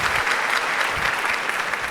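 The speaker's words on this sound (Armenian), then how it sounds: "Եկեք մի հատ էլ ծափահարենք այս հրաշալի զույգին" Audience applauding at an Armenian stand-up comedy show, a steady, dense wash of clapping that fills the whole stretch without a break.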